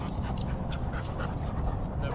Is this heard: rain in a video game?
no